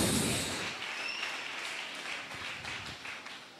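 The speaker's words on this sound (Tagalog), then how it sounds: "Isa pong buhay at masiglang palakpak po natin sa ating mabait na Diyos." Congregation clapping at a Filipino church service, a dense roar of applause that starts loud and gradually fades, with a hissy, reverberant quality.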